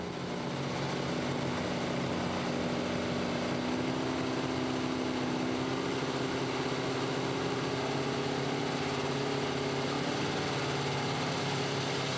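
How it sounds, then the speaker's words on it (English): Engine roar from an unlimited super stock pulling tractor at a 2016 truck and tractor pull, a loud continuous drone with steady harmonics that rise gradually in pitch, sustained throughout without talk. "here comes Jeff Hurt now, finishing first 1 year ago behind the wheel of this tractor called Runnin' Bear"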